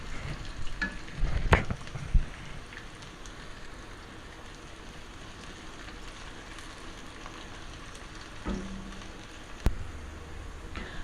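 Onion frying until brown in a pot for pea pilaf, a faint steady crackling sizzle with a few louder stirring clatters near the start and a couple of knocks later.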